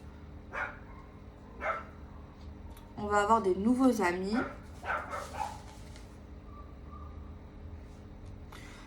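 A dog barks a few times, faint and somewhat distant, with some short yips, while someone speaks French nearby.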